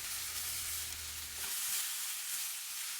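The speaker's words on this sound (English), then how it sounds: "to the hot oil, drop the chopped watermelon peel in so spices don't burn" Chopped watermelon rind dropped into hot spiced oil for a vegan bhaji, giving a loud, steady broadband sizzle and hiss that runs through the whole moment, with a low rumble fading out halfway and no talking.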